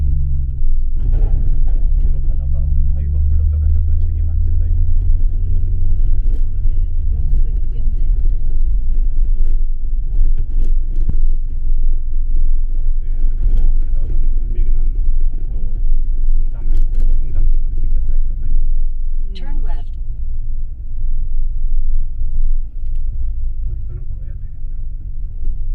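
A car driving along Cathedral Road from SR24 in Cathedral Valley, giving a steady loud low engine and road rumble throughout, with faint higher rattles and bumps from the cabin.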